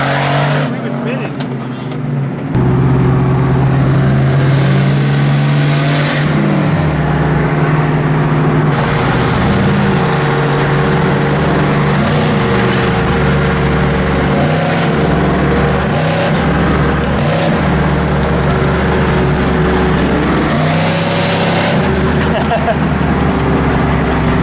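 Loud 2006 Pontiac Grand Prix GXP with the muffler deleted, engine droning steadily from inside the car as it accelerates hard, with voices talking over it.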